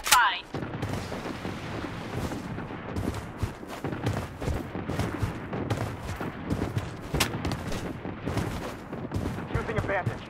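Artillery bombardment in the shooter game Blood Strike, a dense rolling barrage of booms and cracking gunfire, loud and continuous, with a voice heard over it.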